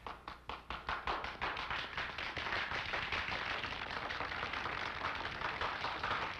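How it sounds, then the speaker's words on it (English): Slow sarcastic clapping from an old public domain film: a run of single claps that speeds up into dense applause-like patter, with a thin, dated soundtrack quality. "He's doing the sarcastic clap."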